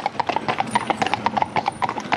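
Horse hooves clip-clopping in a quick, even rhythm during arena centre work, crisp close hoofbeats that keep steady throughout with no talking over them.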